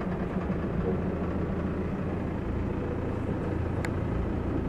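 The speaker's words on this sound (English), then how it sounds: "To start the engine, we put power on." The diesel engine of a Bavaria Cruiser 56 yacht runs with a steady, loud low rumble and idling drone throughout, with a short click near the end and no voices.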